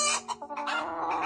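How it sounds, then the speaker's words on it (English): A hen clucks in a quick run of short, throaty calls, close and clear with no voices over it. "It's a hen."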